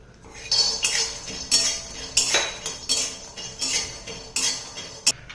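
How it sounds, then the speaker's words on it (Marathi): Regular scraping and clinking of a spatula stirring peanuts roasting in a metal pan, about eight strokes in steady rhythm, close up, no voices. "शेंगदाणे खरपूस असे भाजून घेत आहे"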